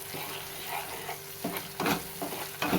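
Ground ginger, garlic and coconut paste frying with a cinnamon stick and bay leaf in a pan, a close, busy sizzle with bursts of stirring scrapes.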